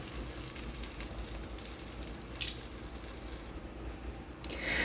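Spiced chicken pieces browning in hot oil for Gambian domoda, a steady, moderately loud crackling sizzle throughout with a couple of brief sharper spatters, no talking.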